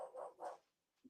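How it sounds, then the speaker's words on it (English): A dog indoors gives two quick, faint barks, then a softer yip after a short pause, with no talk over them. "What are you barking at? You don't usually bark at all."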